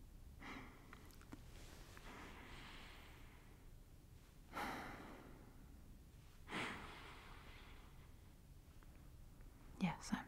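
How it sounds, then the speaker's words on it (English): Close, soft sniffs and breathy inhales from a person nuzzling a partner in an intimate cuddling scene, a few distinct sniffing bursts spaced across quiet near-silence with faint breath noise between them. "Yes, I'm sniffing you."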